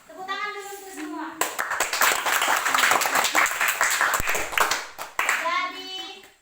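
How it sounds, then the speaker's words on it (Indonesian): A classroom of students claps together in a dense, loud burst lasting several seconds, framed by a teacher's voice speaking before and after. "Oke, tepuk tangan dulu untuk semua."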